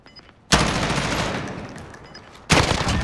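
Sustained machine gun fire in Call of Duty Modern Warfare: a dense, loud burst of rapid automatic shots runs for about two seconds, then breaks off briefly before a second burst starts.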